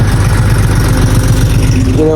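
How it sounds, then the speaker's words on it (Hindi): A tractor engine chugs steadily up close on a muddy farm track, pulling a loaded corn trolley, with a low rhythmic throb running throughout. "और थोड़ा बहुत सूखा है इसलिए इसमें ट्रैक्टर आ रहा है, वरना ट्रैक्टर भी नहीं आता"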